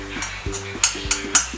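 Okra frying in oil with coconut and cumin over low heat, with a soft continuous sizzle broken by several quick spoon stirs and scrapes against the pan.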